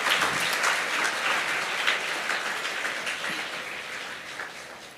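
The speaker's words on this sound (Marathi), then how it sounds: "साहेबांचं जरा टाळ्या वाजून सगळेजण स्वागत करा" An audience claps to welcome a guest at a public talk, a dense round of applause that is loud at first and then slowly thins and fades.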